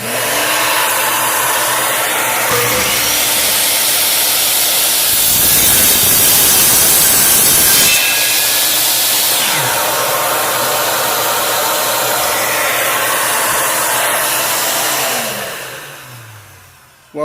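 A DeWalt 715 miter saw cuts through a 1x4 board while hooked to a Ridgid shop vac, giving a loud continuous whine and rushing roar with a heavier surge midway through, then winding down near the end.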